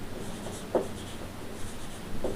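A pen writing notes by hand on paper during a biology lesson, a quiet, soft scratching under steady room hiss with two brief firmer strokes.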